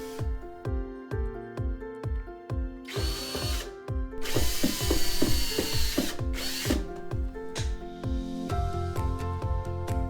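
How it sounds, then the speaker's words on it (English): A power drill drives screws through a wall cleat into a wall in bursts of whirring with ratcheting clicks, loud and close, rising into a sustained high grind midway. "screw in 1 wall cleat, and then screw in the second wall cleat leveled off of the first wall piece"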